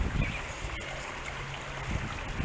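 Fast water in a trout stream rushes with a steady, close hiss and gurgle, continuous and moderately loud, with no voices over it.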